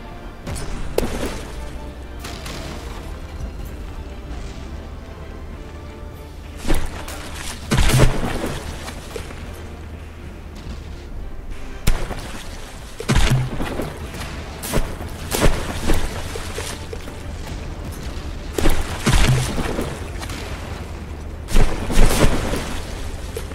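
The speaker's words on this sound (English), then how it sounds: "I couldn't see it for all the explosions around it." Battleship combat explosions from the video game From The Depths boom repeatedly over a constant low rumble, heavy blasts arriving in irregular clusters, some stacked close together, loud and near.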